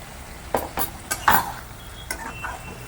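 Potato curry for puri being stirred in a pan after curry leaves go into hot oil, with a few sharp spoon scrapes and clinks against the metal over a soft sizzle, close and moderately loud, no talking.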